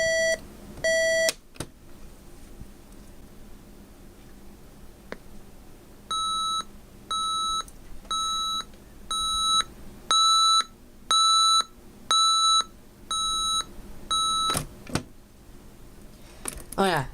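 A GE 7-4664A stereo clock radio sounds its alarm: a run of high-pitched electronic beeps in evenly spaced pulses that rise in loudness, with room noise and brief talk around them.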